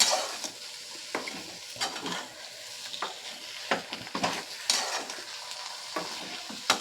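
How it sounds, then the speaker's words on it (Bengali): Potatoes and tomato sauté with poppy seed paste in a pan, a soft background sizzle under repeated spatula scrapes and taps against the metal, close up. "আলু আর টমেটোটা ভালো করে কষিয়ে নেব পোস্তর সঙ্গে।"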